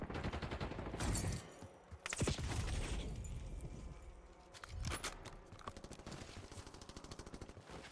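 Rapid automatic gunfire from a Black Ops 6 multiplayer match, loud dense bursts with short pauses and a few heavier single shots throughout, constant and close.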